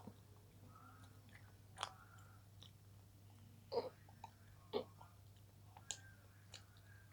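Swiss chocolate being chewed close to the microphone, a few soft crunches and bites scattered across the quiet stretch over a low steady hum, with no talking.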